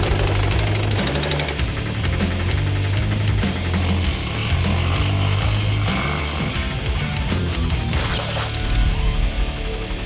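A power hammer shapes a metal guard in a shop, pounding out a loud, steady rapid-fire stream of heavy mechanical blows that runs without a break for the whole stretch.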